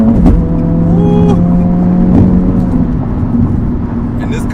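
An Acura Integra Type S front-wheel-drive car accelerating: a loud engine drone heard up close with tones that climb in pitch, over road and wind noise.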